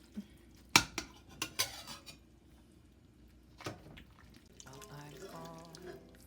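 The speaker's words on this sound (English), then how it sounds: "Just giving it a nice big stir." A spoon stirs sausages in a pot, with a few sharp metallic clanks and knocks early on, then quieter stirring and faint liquid movement, fairly close and sparse.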